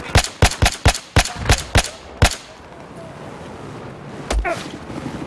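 Battlefield 4 gunfire: a rapid string of about eight loud, sharp shots in the first two seconds, then quiet game ambience and a single later report, heard without talk.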